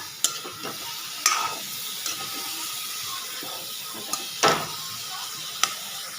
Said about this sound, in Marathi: बघा सगळं फणस टाकून झालं इथे आता असं फ्राय करून घ्यायची